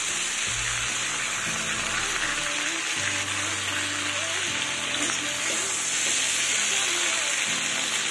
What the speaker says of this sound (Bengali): দেখো আলু আর ডাঁটাগুলোকে একটু ভেজে নিলাম।